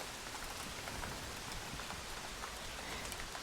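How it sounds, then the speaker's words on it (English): Steady rain falls outside a historic New England house, a dense even hiss of drops on surfaces, continuous and fairly loud with no voices. "Just walked to the house and it started to rain."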